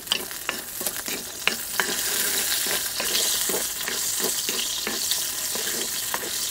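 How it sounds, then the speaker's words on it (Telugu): Green chillies fry in a spoonful of oil in a pan for chutney, a steady close sizzle broken by repeated scrapes and stirring taps throughout, with no voices. "ముందుగా 1 చెంచా నూనె వేసుకుని పచ్చిమిరపకాయలు 1 నిమిషం పాటు వేయించుకుందాం."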